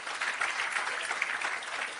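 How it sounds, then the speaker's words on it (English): Audience applause at an agro park opening in Clarendon, a fairly quiet, steady patter of many hands clapping heard from a short distance, continuous with no talk over it. "Can we give our High Commissioner a big round of applause?"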